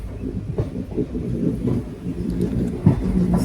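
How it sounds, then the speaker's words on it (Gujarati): A nearly empty local passenger train runs along the track with a steady low rumble and rolling clatter, loud and close throughout, with no talk. "આ ટ્રેન એકદમ લોકલ હતી, એટલે હાવ ખાલી જ છે, એકદમ લોકલ છે."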